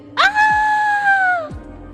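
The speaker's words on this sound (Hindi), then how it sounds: "औरत के चीखने की आवाज सुनाई देती है" A woman lets out one long, sustained scream in a horror audio drama, loud and close, holding steady for over a second before cutting off over a low background drone.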